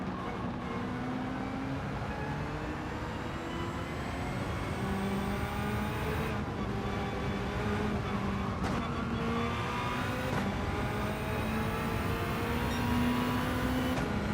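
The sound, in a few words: Honda NSX race car driving past, Gran Turismo 7 video game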